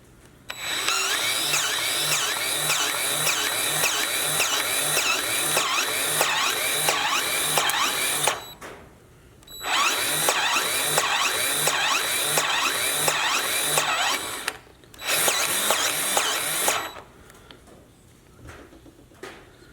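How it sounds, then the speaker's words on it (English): A powered grease gun pumps grease into a fitting on a Jeep Gladiator during a long-arm suspension kit install. It whirs and clatters in three bursts: two long runs of several seconds each, then a short one, with quiet gaps between. "now that I got the grease fitting in, I'm going to give it some grease."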